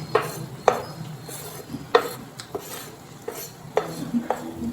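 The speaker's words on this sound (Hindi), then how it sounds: "सब हल्का सा इसको सौते कर लेना है वेजिटेबल्स को" Chopped carrots and cabbage are sautéed with chicken in a pan, with repeated sharp clinks of a spatula against the metal over a faint sizzle, close and steady, with no one talking.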